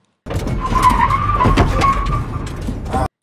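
A car in a film drives erratically and skids, giving a loud, continuous engine roar with a squealing tire tone that holds steady for about three seconds before cutting off abruptly.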